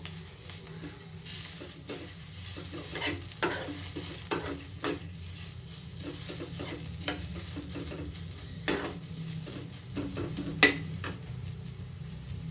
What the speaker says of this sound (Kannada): ಈಗ ಕೊತ್ತಂಬರಿ ಸೊಪ್ಪು ಹಾಕ್ಕೊಳ್ತಾ ಇದ್ದೀನಿ ಅದು ಸ್ವಲ್ಪ ಫ್ರೈ ಆಗಲಿ